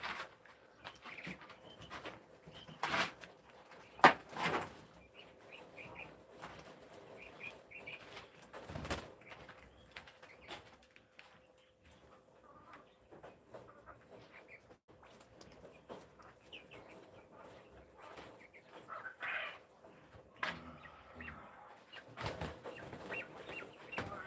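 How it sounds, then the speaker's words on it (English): White jumbo coturnix quail in a coop make soft scattered chirps and peeps with bursts of wing flapping and scuffling, fairly quiet and close, with no talk. "Jumbo caturnix, the white quail."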